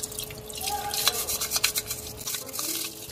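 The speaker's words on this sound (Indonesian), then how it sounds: "Sekarang part 5, filter stainless. Masih sama, bilas cuci sikat. Sikat bagian dalam." The stainless steel filter of a Cosmos CJ-3910 slow juicer is rinsed and scrubbed with a brush, giving a steady run of dripping, splashing water and quick scrubbing strokes close by.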